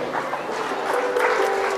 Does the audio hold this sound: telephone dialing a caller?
no